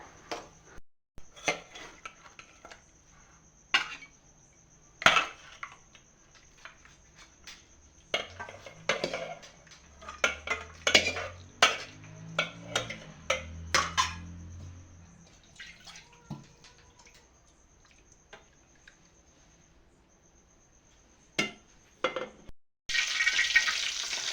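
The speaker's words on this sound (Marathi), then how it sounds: "चला तर मी भाजीला फोडणी देते" Oil sizzles and spatters in a pan as garlic and vegetables are tossed in for tempering and stirred, with sharp crackles, scraping spoon strokes and brief bursts of louder frying.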